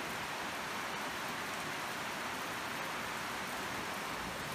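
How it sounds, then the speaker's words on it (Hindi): Heavy rain pours steadily over the Mall Road terrace in Murree, Pakistan, in cloudy weather, a dense, even hiss of falling water with no break for the whole stretch. "सो अभी आप देख सकते हो बारिश कितनी ज़्यादा हो रही है।"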